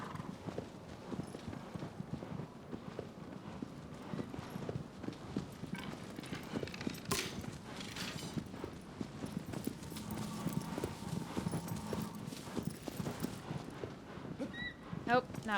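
A horse gallops across the ground in the game Shadow of the Colossus, with rhythmic clip-clopping hoofbeats mid-distance, some rustling and a brief whinny, while someone talks over much of it.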